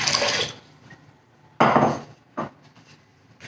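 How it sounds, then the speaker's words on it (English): Water pours into a mixing bowl for sourdough spelt bread in two bursts of close splashing, the first about half a second long and the second longer, with a few small knocks after them and no talking. "To my bowl, mixing bowl, I'm going to add 553 grams of water."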